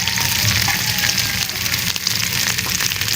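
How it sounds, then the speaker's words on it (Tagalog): Food sizzling and frying in a pan heated only by strong sunlight, a bright continuous crackle close up and alone, with no talk. "Nagpiprito talaga oh."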